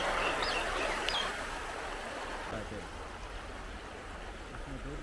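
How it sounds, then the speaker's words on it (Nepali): A clear snowmelt mountain stream rushes steadily below, a continuous broad watery roar close by, with faint voices briefly over it. "ये देखो नीचे कितना साफ पानी बह रहा है"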